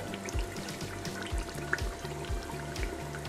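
Half a glass of water pours into a pot of beef qorma, a steady close trickle heard alongside a low, rhythmic background tone.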